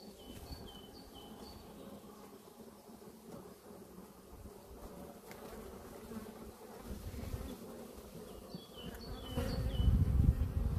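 A dense, steady buzz of many honeybees swarming close by at an opened hive after one is crushed, growing louder and rougher toward the end, with faint rumbling handling noise underneath.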